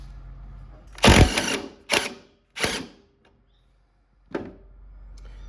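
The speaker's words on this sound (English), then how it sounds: "I'm going to use an impact driver and remove this pulley" An impact driver with a 14 mm socket hammers at the deck pulley bolt of a Cub Cadet RZT-50 mower: three short, loud rattling bursts close together, a pause, then one more brief burst.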